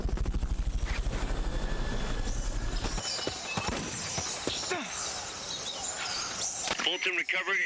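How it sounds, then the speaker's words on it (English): A Fulton recovery helicopter's rotor in Metal Gear Solid: Peace Walker HD chops in a steady rapid thump for the first few seconds, then gives way to clattering game effects and a low mechanical whir. "Fulton recovery helicopter is complete."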